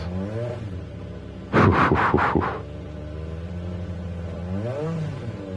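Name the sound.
Jaguar F-Type Gr.3 engine revving in a racing video game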